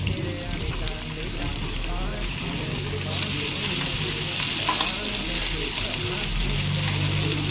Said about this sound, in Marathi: आता मी ह्याच बरोबर टोमॅटो टाकून घेते।